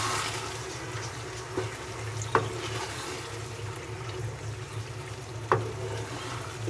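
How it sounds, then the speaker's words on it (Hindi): Potato and pea curry with methi being stirred in a pan after half a cup of water is added, a soft continuous simmer and sizzle with two sharper spoon scrapes against the pan. "मिक्स कर लेते हैं।"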